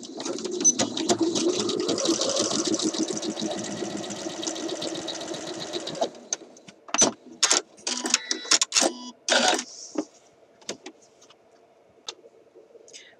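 A sewing machine stitches shirt dress fabric, running steadily for about six seconds before breaking into short stop-start bursts of stitching separated by quiet gaps.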